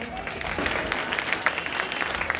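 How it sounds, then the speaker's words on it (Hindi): Audience applause during a Shrimad Bhagwat Katha religious discourse in Indore, a dense, even clapping texture sustained from start to finish at fairly loud level. "कौन कौन आए थोड़ा ताली तो बजाओ"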